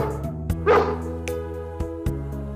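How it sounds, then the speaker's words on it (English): A dog gives a single short yip or bark over a steady musical backing, with a few light clicks and thumps around it; brief and fairly close. "A dog lives in a kennel."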